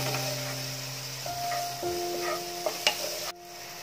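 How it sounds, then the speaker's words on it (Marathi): Turmeric and chili powder stir-frying in oil in a pan, a soft sizzle with a few scrapes of a spoon and a steady tonal hum underneath, ending abruptly. "ते आता आपण चांगलं असं परतून घेऊया"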